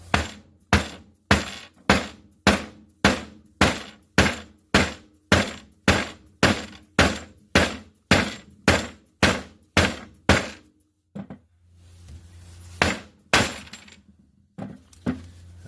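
A 14-pound sledgehammer strikes copper to form poker chips, landing about twenty loud, evenly spaced metallic blows with short ringing decay, then a brief pause and a few more irregular hits.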